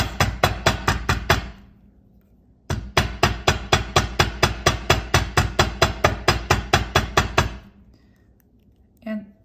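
Metal wire for a jewelry pendant is struck with a hammer in quick, evenly spaced sharp taps, close and loud. A first burst of strikes is followed by a short pause and then a longer steady run of blows.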